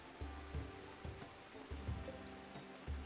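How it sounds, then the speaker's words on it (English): Steady rainfall in the Rimworld video game, a soft continuous wash of patter with low rumbling thumps recurring underneath, faint and unbroken with no voices. "So 1 degree and it's raining"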